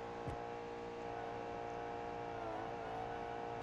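Car engine in a BeamNG video game drag race, a steady droning hum with faint whine held throughout at low level, with a brief low thump near the start.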